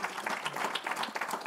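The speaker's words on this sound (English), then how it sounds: "huge round of applause" Audience applause at a tourism investment summit: dense, steady clapping from a crowd, sustained and fairly close throughout, with no speech over it.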